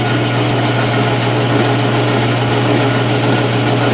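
Metal lathe turning and cutting an aluminum part at 400 RPM with a cheap or expensive tool holder and insert, a loud steady whirring drone with continuous high-pitched machining noise throughout.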